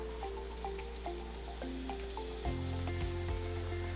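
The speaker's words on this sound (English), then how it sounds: "I'm gonna throw in some butter." Butter melting beside bone-in strip steaks in a hot pan, crackling and sizzling steadily at close range, with a low hum underneath and a brief shift in tone partway through.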